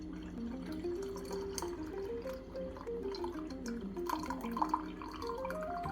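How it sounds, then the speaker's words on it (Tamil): Water poured into cooked lentil water while making Mayavaram rasam, a South Indian soup, gives a steady liquid trickle and splash that runs throughout the clip over a tonal background. "இந்த பருப்பு ஜலத்தில் 1 டம்ளர் தண்ணி விட்டுருக்கேன்"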